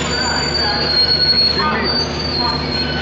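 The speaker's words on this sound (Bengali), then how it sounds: "এই ট্রেনটা কোথায় যাচ্ছে গো?" A train rumbles past close by, its wheels letting out a sustained high-pitched squeal over the steady rolling noise.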